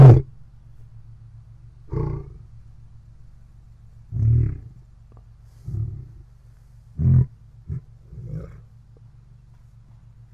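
Gino, a big cat at the Wildcat Sanctuary, gives a string of short, low, breathy grunting calls at irregular intervals, close by, over a steady low hum in the background.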